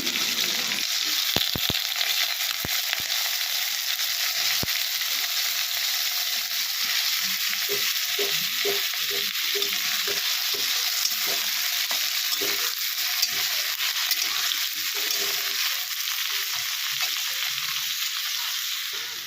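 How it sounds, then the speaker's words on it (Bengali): Potatoes frying in hot oil in a home kitchen, a continuous even sizzle with occasional stirring scrapes, close and steady throughout with no talking. "তেলটা গরম হয়ে গেল আলুগুলোকে ভাজা হবে এখন"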